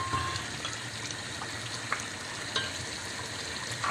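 Red chilies and spices fry in a pan for mutton korma, giving a steady, moderate sizzle and crackle with a few small pops and stirring scrapes, continuous throughout.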